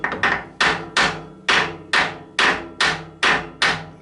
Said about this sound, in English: going to make sure that's tapped down into the bottom of the vise